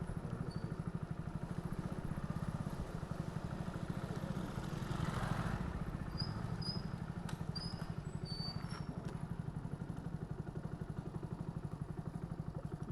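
A motorcycle on a 14-kilometre delivery ride in Hyderabad gives a steady, close engine drone from start to finish, with light rattles and ticks riding on the continuous hum.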